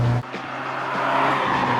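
A Ferrari Mondial driven up a road, its engine note holding a steady drone from inside the car, with a brief shift in tone at the start before the sound settles and builds slightly.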